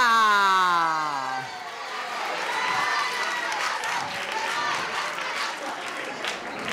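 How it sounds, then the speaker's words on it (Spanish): Crowd applause and cheering at a children's carnival festival in Almería, a loud sustained wash of clapping that begins right after a fading siren-like tone and holds steady to the end. "fuerte aplauso para Almería"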